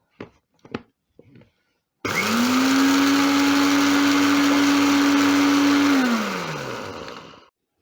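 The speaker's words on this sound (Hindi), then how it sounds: "सौंफ, ज़ीरा, इलायची के बीज सबसे पहले इनको ग्राइंड करेंगे।" An electric grinder pulverises shelled fennel, cumin and cardamom seeds: a few faint knocks, then a loud, steady motor whir for about five seconds that winds down and stops.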